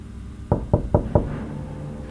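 Four firm knocks on a door by police, evenly spaced about a quarter second apart, close and fairly loud, followed by a quiet room tone with no voices.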